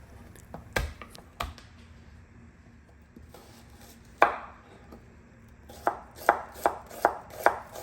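A knife chops garlic and onions on a board for pork spare rib adobo, with a few scattered cuts early on, then a run of sharp, evenly spaced chops near the end.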